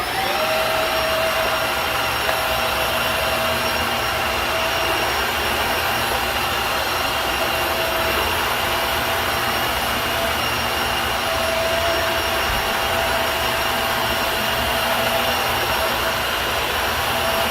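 A Dreametech H11 Max cordless wet-dry vacuum cleaner in auto mode whirs with a loud, constant high-pitched motor whine and suction roar, held steady and close throughout.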